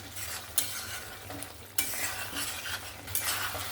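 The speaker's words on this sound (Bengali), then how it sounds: "সুন্দরভাবে কিন্তু মাংসটা কষানো হয়ে গেছে" Mutton being stir-fried in a pan, a soft continuous sizzle with occasional scraping and clinks of a spatula against the metal, close and fairly quiet, no voices.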